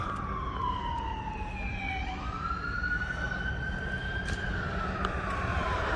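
A fire engine siren wails, sweeping down and then rising again as it passes at a moderate distance over steady traffic noise.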